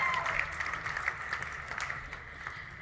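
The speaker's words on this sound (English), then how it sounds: "A round of applause for their win." Steady applause from a crowd at an engineering awards ceremony fills the space, with a faint voice underneath.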